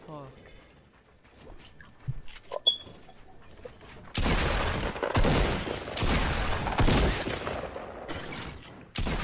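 Gunfire in Fortnite, a battle royale video game: rapid bursts of shots crowd the second half, loud and dense, after a quieter stretch with scattered sounds and voices.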